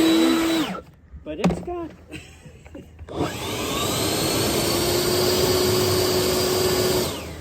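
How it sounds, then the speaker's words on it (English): A large, expensive leaf blower blowing air outdoors among trees, with a steady loud roar that drops away briefly as people talk, then returns and runs continuously up close. "So there was considerably more air in that larger, more expensive blower."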